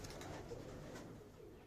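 Soft, low cooing of sport pigeons murmurs steadily at close range, a few quiet overlapping coos with no talking.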